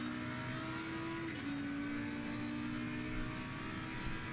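Lamborghini Huracan GT3 spec race car in a racing video game, engine note held steady then shifting pitch mid-pass, continuous and fairly loud with a broad airy roar and no talk.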